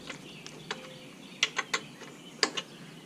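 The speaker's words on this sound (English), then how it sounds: "I'm going to take a 10mm wrench. I'm going to sit here and I'm going to start taking these nuts right here off" 10mm wrench loosening carburetor nuts on a Stihl TS 360 concrete saw: sharp, close metallic clicks and ratcheting ticks in irregular bursts, some doubled, in a quiet room.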